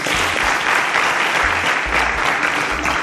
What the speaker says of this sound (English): A round of applause for Abiola.